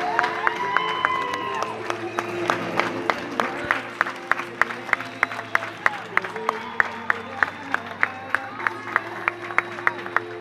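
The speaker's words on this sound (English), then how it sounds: "Let's give them all a big round of applause." A baseball stadium crowd at a T-Bones game applauds military service members, a diffuse murmur of clapping and cheering that gives way to a rhythmic, evenly spaced unison clap, with a low hum beneath and a voice briefly audible.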